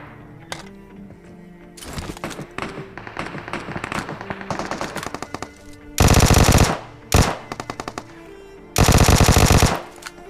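Gunfire in a battle royale mobile game fight: scattered distant shots and rattling bursts under game sounds, then two loud, close sustained automatic bursts and a short one between them.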